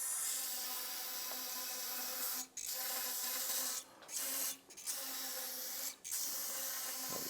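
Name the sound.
spraying Honda CRF450 fork part before drying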